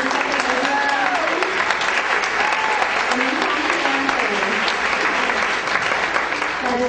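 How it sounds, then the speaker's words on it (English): Audience applause for pageant candidates at a county Fairest of the Fair event, a steady loud roar of many hands clapping with voices calling and talking through it. "Let's give them all a round of applause"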